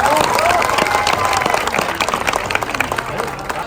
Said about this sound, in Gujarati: તો એના માટે એક વખત બધા તાળીઓથી વધાવશે